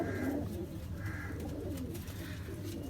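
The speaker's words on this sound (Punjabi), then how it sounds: "ਇਹ ਆ ਕਬੂਤਰ ਕਬੂਤਰੀ ਹੈ" Bazi pigeons in a loft give repeated soft, throaty coos in a slow rhythm, close by against a low background murmur.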